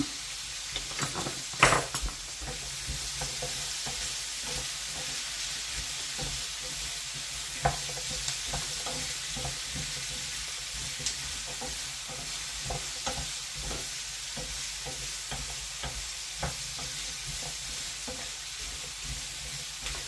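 Onions and carrots sizzle steadily in a pan for a casserole, with a constant frying hiss broken by repeated scraping clicks of stirring throughout; no voices.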